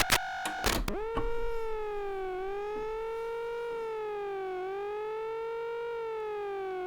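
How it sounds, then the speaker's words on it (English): A Korg MS-20 filter clone synthesizer tone sweeps up sharply, then wavers slowly up and down in pitch, sounding like a wailing police siren, preceded by a few clicks. "Sounds like a police siren now."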